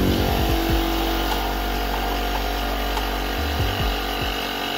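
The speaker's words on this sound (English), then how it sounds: "Fire up the compressor." An air compressor runs loudly and steadily nearby during a motorhome bonnet restoration, a constant motor drone with pulsing low thumps that shift near the end, and no talking.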